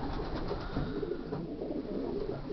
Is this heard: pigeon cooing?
yes